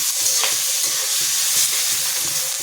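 Close, continuous sizzle of onions frying in a pan with turmeric, dense hiss broken by soft rhythmic scrapes of stirring, loud and alone without any voices.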